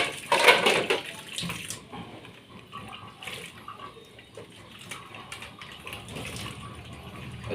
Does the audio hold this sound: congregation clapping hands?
no